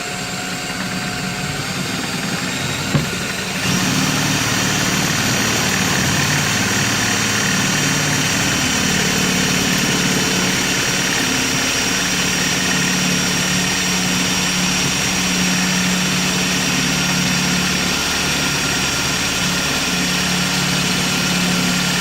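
A power drill bores a hole through an axe sheath in one long, steady whirring run, close and loud, with no talking.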